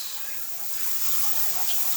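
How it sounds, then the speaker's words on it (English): Water gushes steadily out of a cut water line, a constant hissing rush of moderate loudness that builds slightly, with no voices over it. "it is pouring a lot of water out there from uphill"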